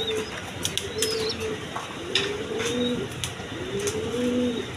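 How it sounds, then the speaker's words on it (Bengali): A pair of Indian Bombay pigeons kept with two chicks, giving repeated low rolling coos in a regular rhythm of about three phrases, close and clear over faint background chirps, with no voices. "এখানে এক পেয়ার কবুতর আছে, দেখেন বোম্বাই কবুতর, ইন্ডিয়ান বোম্বাই"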